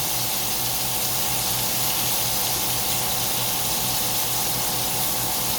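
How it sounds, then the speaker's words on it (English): Tap water runs steadily into a kitchen sink while a pan is washed after pork chops were cooked, a continuous broadband rush of water heard up close without any talk over it. "And then I'm gonna wash this pan,"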